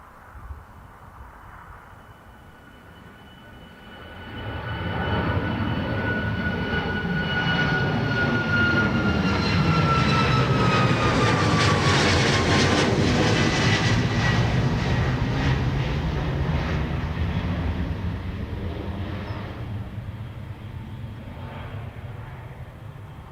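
Icelandair 737 MAX 9 jet passing at Dublin Airport, its engine roar rising from a faint hum to a loud, sustained rumble with a whining tone that sweeps down as it goes by, then slowly fading.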